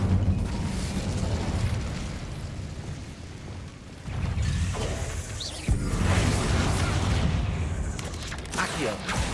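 Incendio fire spell cast in Hogwarts Legacy, a dense, roaring burst of magical fire and booming impacts over a continuous loud battle din, with a voice shouting over it.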